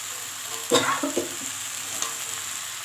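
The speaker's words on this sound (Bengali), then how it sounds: "দিয়ে এবার মশলার সঙ্গে ভালো করে নাড়াচাড়া করতে হবে, যাতে ভিতর অবধি মশলাটা ঢোকে।" Young jackfruit pieces frying with spices in a kadai, a steady background sizzle broken by a few close scraping stirs and light spatula knocks.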